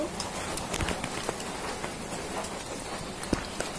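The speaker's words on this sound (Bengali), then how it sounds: "এখনো পর্যন্ত বৃষ্টিটা কমেছে কিন্তু" Steady rain pours outdoors during a wet afternoon, a dense continuous patter with scattered louder drops and no break across the few seconds, and no voices on top.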